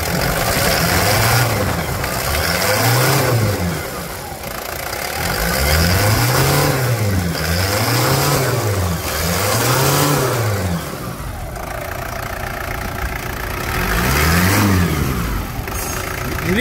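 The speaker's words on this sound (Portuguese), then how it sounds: "Acelera!" A Toyota Land Cruiser Prado engine, with a motor mount and starter job just done, revved repeatedly in loud close swells that climb and fall back to idle, several rises in a row with a pause between.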